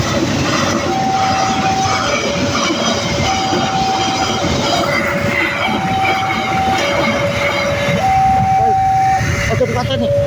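A train passes at close range: a loud, steady rolling rumble runs throughout, with a two-tone warning signal alternating over it, and voices are heard in the background.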